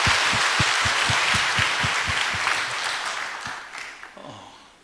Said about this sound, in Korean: 우리를 사용하신 하나님께 감사의 박수 한번 올리겠습니다.